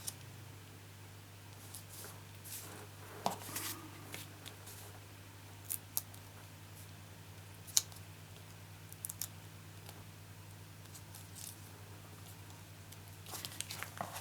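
Scissors snip card for a fun-fold stamped craft card, giving scattered short crisp clicks and cuts spread irregularly over a quiet background with a steady low hum.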